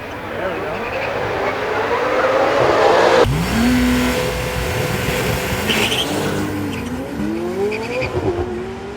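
A McLaren 750S and a Porsche 911 Turbo S launch in a nighttime drag race, engines roaring loud and close with rising gear-change sweeps and a sharp shift in tone midway, as voices shout over the noise.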